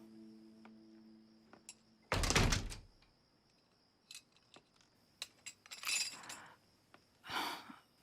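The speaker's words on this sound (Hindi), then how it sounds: "दरवाजा बंद करो।" A door is pushed shut with a loud, broad thud, followed by scattered smaller knocks, clinks and rattles in a quiet room.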